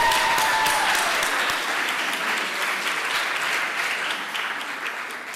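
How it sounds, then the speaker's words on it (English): Sustained audience applause at an NHPR Rising Stars awards ceremony, a dense, steady wash of clapping that carries on and slowly thins toward the end. "let's give Annie a round of applause"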